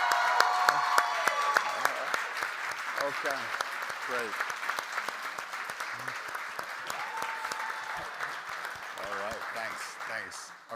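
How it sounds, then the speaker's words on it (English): An audience applauds the Woven team at an innovation challenge event, steady clapping filling the room for about ten seconds while a host speaks briefly over it. "Big round of applause for Woven."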